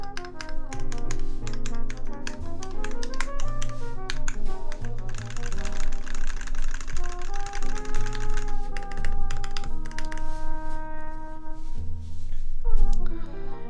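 Fast, steady typing on an Alice-layout mechanical keyboard fitted with PBT keycaps and copper parts: dense overlapping clacks run continuously and fairly close, with tonal background music underneath.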